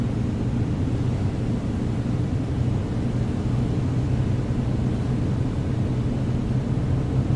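A2A Piper Comanche 250 engine at full power in a flight simulator, a steady loud droning roar with constant low rumble and no voices.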